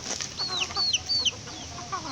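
A nearly three-year-old rooster gives a few short, bright clucking calls close by, separated by brief pauses over faint background noise.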